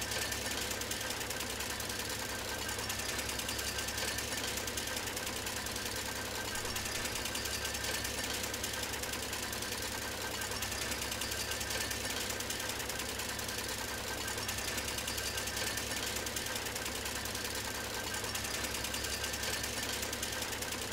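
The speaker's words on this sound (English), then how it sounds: "I'm not getting the chainsaw to bite" A chainsaw runs in the video game Farming Simulator 17, a continuous, dense, buzzing mechanical drone that holds steady and loud throughout with no pauses and no talking.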